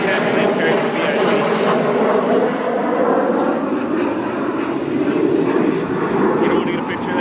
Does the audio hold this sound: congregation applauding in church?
no